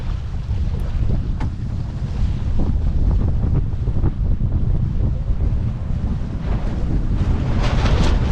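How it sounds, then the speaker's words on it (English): Strong gusting wind roars across the microphone aboard a sailboat in a puff of over 20 knots, with rushing water and hull noise underneath, loud and steady throughout with no speech. "Another puff at about 20 plus knots."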